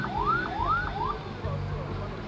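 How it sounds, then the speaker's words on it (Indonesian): Ambulance siren from a regional public hospital's vehicle in a development parade in Buton Regency, wailing in three rising sweeps over crowd and street noise. "Bunyi yang sudah tidak asing bagi kita. Ya, bunyi sirine."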